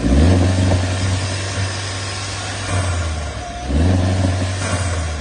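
A Tata Harrier Fearless Ultra Automatic with a 1.5-litre Hyperion engine rated at 167 bhp runs with a steady, deep hum, swelling slightly twice as if briefly revved, close and loud with no talk.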